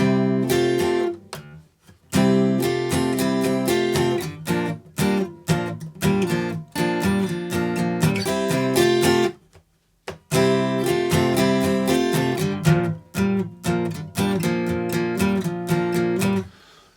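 Acoustic guitar barre chords strummed with a pick in bursts, bright and rhythmic, with a couple of brief pauses between phrases; no one speaks.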